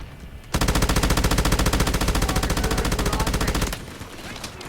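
A sustained, rapid burst of M249 machine gun fire roars in the Delta Force shooter game, a dense, even rattle lasting about three seconds before cutting off into quieter game noise.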